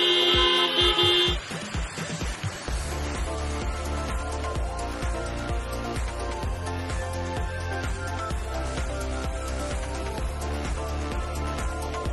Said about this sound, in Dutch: Laat het dan even horen met de toeter.